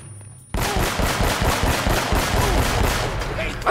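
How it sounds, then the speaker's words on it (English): Gunfire in the Uncharted: Drake's Fortune video game, a rapid rhythmic burst of repeated shots starting after a brief quiet lead-in and continuing steadily for about three seconds, fairly loud. "I'm just firing wild shots."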